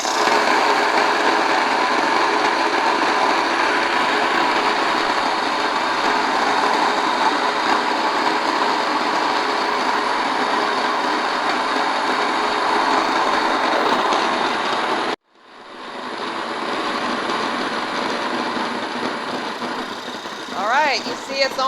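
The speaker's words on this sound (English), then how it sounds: "now it's more noisy because I'm doing a fine" Home grain mill grinding flour on a fine setting gives a loud, steady, harsh mechanical whir that runs continuously, cuts off abruptly, then spins back up as the motor restarts.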